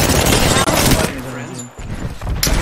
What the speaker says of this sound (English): There is an airstrike on our